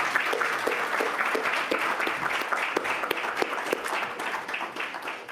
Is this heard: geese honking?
no